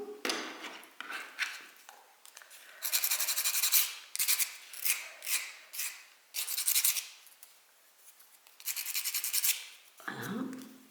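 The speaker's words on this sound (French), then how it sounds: "on va passer un coup de lime" A hand file rasps against a small part of a miniature model being assembled. The close scraping strokes come in repeated bursts with short pauses between them, and no one speaks.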